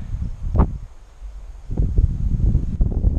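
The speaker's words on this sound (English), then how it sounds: "There's a nice gust of wind." A gust of wind blows outdoors past a small AC fan motor rigged as a wind generator, rising into rumbling microphone buffeting that grows louder and stays rough through the second half.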